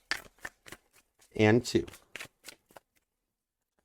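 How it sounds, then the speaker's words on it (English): Tarot cards are shuffled in a loud, dense riffle of about half a second, with short softer card taps before and after, while a person speaks between the sounds. "2 shuffles for you, Aquarius."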